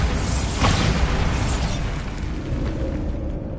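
The Bombarda spell explodes in the video game Hogwarts Legacy as a loud, rumbling blast with a crackling burst that trails off into a dull roar.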